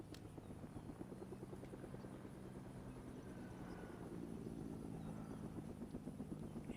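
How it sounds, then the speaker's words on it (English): A helicopter flying in the Fortnite video game, a faint, steady rotor chop with engine hum that carries on unbroken and grows slightly louder toward the end. "You hear that stupid helicopter."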